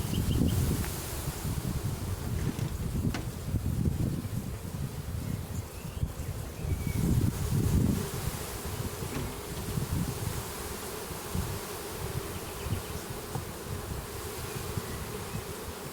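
Honey bees drone steadily around an opened chestnut-honey hive, a dense continuous buzz close to the microphone that swells and eases for the whole stretch, with faint outdoor rustle beneath and no talking.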